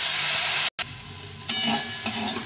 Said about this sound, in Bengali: পটলটাকে ভালো করে একটু ভেজে দিতে হবে